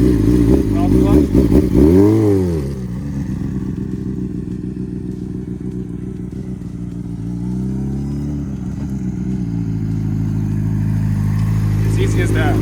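Honda CBR600RR sport bike engine idling and given a little gas, a loud, close, steady mid-range engine drone with a brief rev swelling near the start and a gentler rise later, a voice talking over it.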